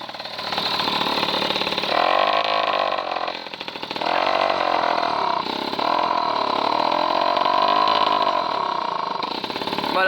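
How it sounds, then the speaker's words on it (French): Peugeot 103 MVL moped engine buzzing loudly at full throttle, its pitch climbing a little then stalling short of high revs, with repeated surges and dips that never reach a high scream. "Mais le problème c'est qu'elle monte pas dans les tours. Voilà, il est à fond."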